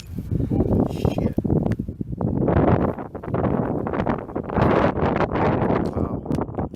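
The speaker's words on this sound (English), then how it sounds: "That wind was heavy this way." Heavy wind buffets the microphone outdoors during a Black Hills deer hunt in Wyoming, a loud, continuous rumbling roar that surges in gusts with hunters talking over it.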